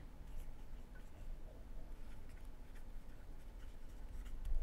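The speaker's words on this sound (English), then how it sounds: "Hope you like those pencil sounds." Pencil scratching on paper during a tabletop play session of the board game Icarus, a soft steady rasp of irregular strokes running throughout, close and quiet with no talk over it.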